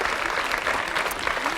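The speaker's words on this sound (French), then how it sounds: "On peut l'applaudir, oui." A French TV studio audience applauds a guest who has just been called up, steady close clapping filling the short moment without pause.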